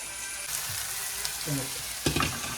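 Prawns hiss and spit in hot oil, a close, steady sizzle with a sharper burst of crackling near the end.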